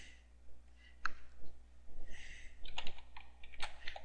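A file name being typed on a computer keyboard, a run of quick, uneven key clicks close to the microphone with short pauses between bursts.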